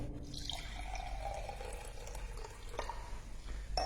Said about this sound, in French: je vais mettre juste de l'eau. De l'eau du robinet